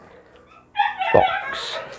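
A pet dog gives a sudden yelp and whimpering bark close by indoors, a brief burst after a quiet stretch, while a person speaks nearby.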